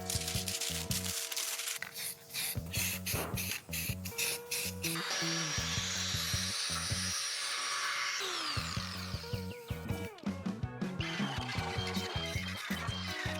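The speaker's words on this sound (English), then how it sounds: "All rust is thoroughly ground off the surfaces of the grille and hood cowl" A power grinder works rust off a C10 truck's metal grille and hood cowl, a close, loud whining hiss with stuttering bursts as the tool meets and leaves the surface, broken by brief pauses.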